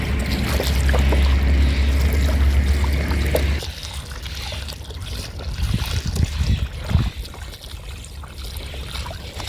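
Water pours and splashes over a batch of carrots being washed at home, a steady loud rush for the first few seconds, then softer trickling and splashing with scattered knocks.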